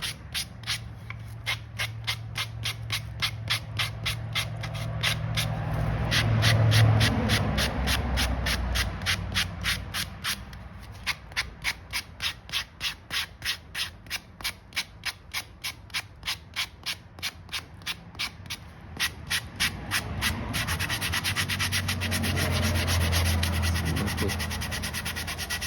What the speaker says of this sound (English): I'm just going to use a sanding block here to